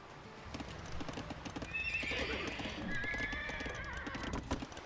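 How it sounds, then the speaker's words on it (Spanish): In the Age of Empires II video game, horse hooves clatter in a steady, busy stream while a horse gives a drawn-out whinny midway, all at moderate volume. "caballos."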